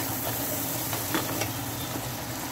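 Malai (cream) fries in a pan with a constant close sizzle and soft stirring scrapes, a few brief crackles rising above the hiss.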